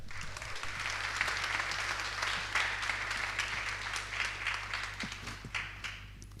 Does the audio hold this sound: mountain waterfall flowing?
no